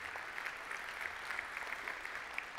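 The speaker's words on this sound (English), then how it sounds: "give those guys a big round of applause for helping out" Applause from a modest gathering for helpful volunteers, a brief, even patter of many hands clapping at moderate distance, heard alone without talk.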